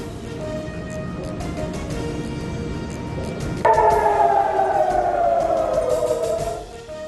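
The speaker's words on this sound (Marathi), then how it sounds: "इस्रायल विमानतळावर हल्ल्याचा सायरन वाजत असल्याचा व्हिडिओ समोर" A loud, wailing air raid siren at an Israeli airport starts abruptly and holds a steady, slowly falling tone before fading out, over a background hum.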